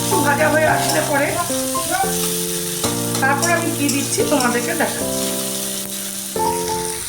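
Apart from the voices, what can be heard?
onions frying in a pan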